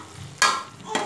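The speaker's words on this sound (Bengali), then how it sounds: "ঢাকনা দিয়ে একটু কষিয়ে নিব, একদম লো ফ্লেমে রেখে দিব।" Chicken cooks in a covered pan over a low flame, two short bursts of stirring and sizzling rising over a quiet background.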